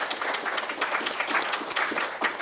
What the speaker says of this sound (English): if we could all sort of give Chon an applause